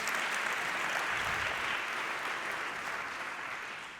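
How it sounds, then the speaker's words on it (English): Conference audience at a Toronto blockchain event clapping for the organizers: a dense, even wash of applause that holds steady and then gradually tapers off, with no voices over it. "Let's give them a round of applause"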